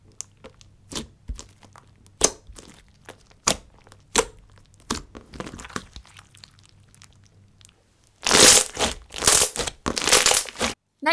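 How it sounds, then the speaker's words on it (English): Semi-sticky slime loaded with fishbowl beads is squished by hand, giving sharp repeated crackling pops and squelches, sparse at first, then a dense loud burst of crunchy crackles near the end, with no voices. "I started off with the semi-sticky slime, so all the fishbowl beads would get held in"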